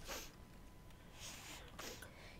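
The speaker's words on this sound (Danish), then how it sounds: "Jeg undskyld for, at jeg snøfter lidt." Someone sniffles a few times with a stuffy nose, short nasal sniffs spaced through a quiet, close indoor recording.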